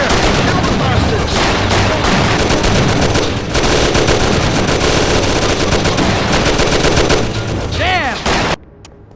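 A dense, loud shootout in the Mafia game: rapid machine-gun bursts and overlapping gunshots fire almost continuously for about eight seconds, with shouting voices mixed in, before cutting off abruptly.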